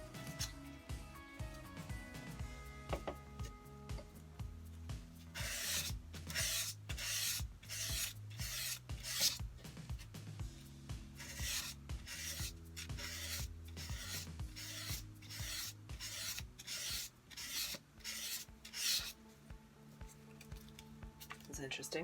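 Fine abrasive is rubbed back and forth along a Norse knife blade to clean it, giving a rapid series of regular raspy strokes in the middle stretch, with someone talking over the scrubbing.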